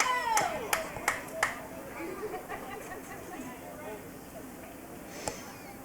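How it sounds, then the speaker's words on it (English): Distant crowd of Forest Hills fans at a varsity boys' high school soccer game against Bedford, a steady babble of chatter with a few sharp claps and shouts early on. "you may be able to hear the Forest Hills fans down there cheering on their team"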